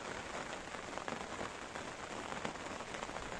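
Steady rain pours down beside a flooded river on a cold, windy day of pike fishing, a dense, even patter of drops hitting surfaces close by, with no voices.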